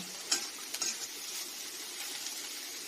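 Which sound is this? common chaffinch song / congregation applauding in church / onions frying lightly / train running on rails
onions frying lightly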